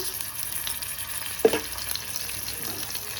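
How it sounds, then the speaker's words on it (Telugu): Ginger garlic paste hitting a hot pan for mandi rice: a sharp sizzle bursts up as it drops in, then fades back into a steady low frying crackle. "ఇందులో కొద్దిగా అల్లం వెల్లుల్లి పేస్ట్ వేస్తున్నాను"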